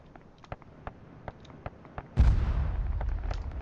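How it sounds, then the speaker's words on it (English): Bomb blast in the video game Arma 3, a sudden heavy boom after a series of faint sharp clicks, followed by a long rumbling decay. "Funny looking explosion."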